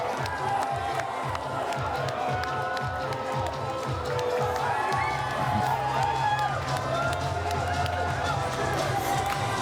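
A large crowd cheers and claps continuously at Justin Trudeau's 2015 Canadian election victory speech, a loud, dense roar with rhythmic chanting or clapping, voices mixed in throughout.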